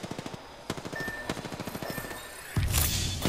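Automatic weapon fire in Apex Legends, a long run of evenly spaced close shots followed by a louder, heavier blast of impacts at the end, with no talking.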